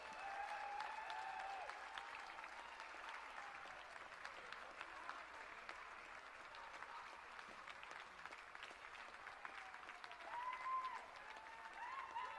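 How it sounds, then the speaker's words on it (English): Audience applause at the Blackpool championship dog show, greeting the pastoral group winners in the ring; steady, sustained clapping from a moderately distant crowd, with a faint voice briefly audible. "Big round of applause, please,"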